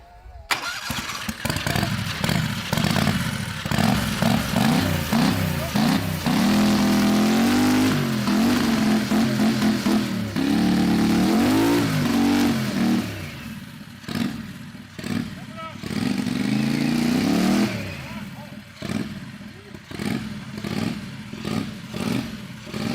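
A Turbo 670 V-twin motorcycle revs hard on a test stand to warm up its tire, with repeated loud throttle blips and a sustained high-revving roar, while voices are heard under the engine noise.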